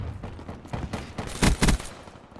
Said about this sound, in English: Oh, we getting shot in the back?